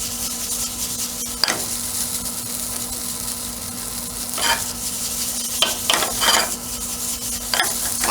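Fried rice sizzles steadily in a hot pan, with a constant frying hiss broken by several sharp scrapes and clinks as a utensil stirs it.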